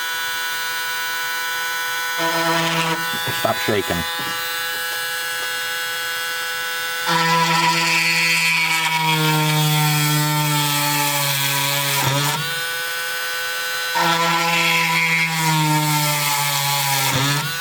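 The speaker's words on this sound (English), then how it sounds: "And we'll drill 2 holes." A small drill bores two holes through a circuit board for the display of a 1978 Gottlieb System 1 Sinbad pinball machine, its high motor whine running in two long bursts with a short pause, and a voice speaks briefly.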